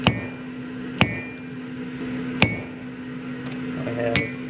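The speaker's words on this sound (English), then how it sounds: "gasket punches, punch these holes out" A gasket punch is struck with a hammer to cut holes in gasket material while wiring a 1967 Chevrolet C10, giving four sharp metallic strikes spaced about a second apart over a steady low hum.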